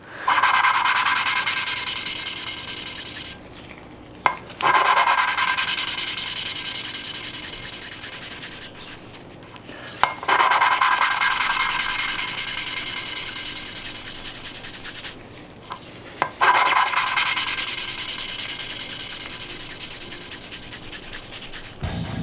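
A valve is lapped into its seat by hand with a suction-cup tool on a VW 2.0T TSI engine, making a gritty, steady rubbing that repeats in long strokes broken by brief pauses and small taps.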